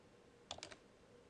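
A few quick keystrokes on a computer keyboard while code is entered in a programming lesson, a short cluster of clicks then one more tap, faint and close with no talk.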